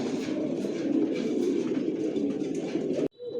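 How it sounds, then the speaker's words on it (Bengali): Adult racing pigeons of a Janssen long-distance line coo continuously in a loft, a close, dense chorus of throaty murmurs that cuts off abruptly just before the end. "বিয়ার্স দেখতে পাচ্ছেন এখানে সব অ্যাডাল্ট কবুতর,"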